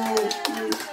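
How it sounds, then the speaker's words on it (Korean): At a daycare puppet show of The Ant and the Grasshopper, children clap a few scattered beats for the grasshopper puppet, while a voice carries on over the claps for the whole brief moment. "배짱이님을 위해서 박수!"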